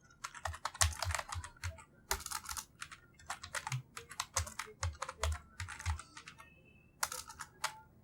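Fingers tap out text on a computer keyboard while writing HTML, close quick clicks in uneven bursts with short pauses, alone without voices.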